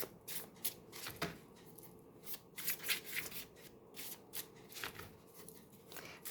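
Tarot cards shuffled and drawn from a deck by hand, a run of quick crisp riffles and soft slides in close, fairly quiet bursts with short pauses between.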